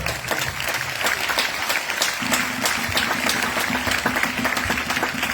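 A church congregation applauds the Lord, with steady, lively clapping from many hands filling the room and faint voices underneath.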